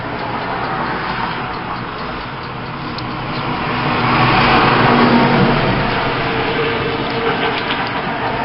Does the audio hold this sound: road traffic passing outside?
yes